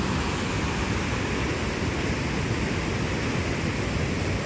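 Fast water rushes steadily through a drainage channel beside a river floodgate, a loud continuous broadband roar that holds unchanged throughout with no voices.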